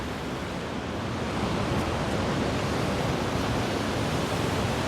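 Storm waves crash continuously against a seaside embankment, a loud, dense roar of surf and spray that stays steady and close throughout, with no voices.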